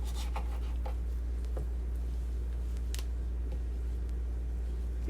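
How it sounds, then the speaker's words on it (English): A knife cuts raw chicken into pieces, making sparse, soft close-up clicks and taps on a board over a steady low background hum. "Now we're going to cut this up to pieces."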